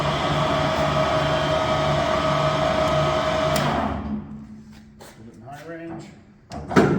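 Standard Modern 1640 tool room lathe, 16 by 40 inch, running at 80 RPM in low range: a steady mechanical hum and whine that cuts off around four seconds, followed by quieter handling clatter and faint sounds.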